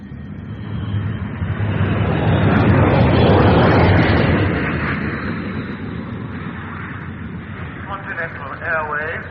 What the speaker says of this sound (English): Continental Airways announced the arrival of their flight number 374 from Rome and Zurich